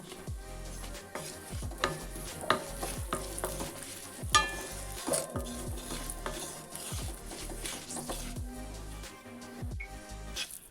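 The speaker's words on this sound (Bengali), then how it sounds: "তেলটা গরম হয়ে গেছে ফোড়নে দিচ্ছি আমি সাদা জিরে আর একটা শুকনো লঙ্কা" Cumin seeds and a dried red chilli sizzle in hot oil close by, with a spoon stirring and scraping against the pan in irregular clinks. No one speaks.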